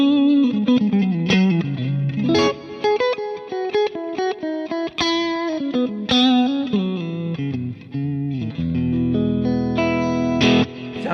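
Electric guitar played through a Jam Continuum B2 pedal with chorus added, a dirty-clean tone ringing out in alone, with distinct picked notes and chords, some strummed and left to sustain.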